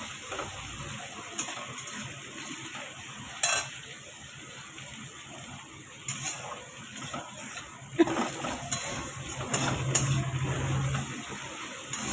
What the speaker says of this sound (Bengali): লবণ হলুদ দিয়ে আর একটু অনেকক্ষণ কষাবো এটা